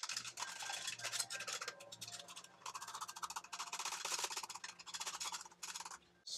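Soft plastic bait mix with colour and black hex glitter being stirred for Halloween-themed lures, a busy, close scraping and rubbing that runs almost continuously, with brief pauses between strokes.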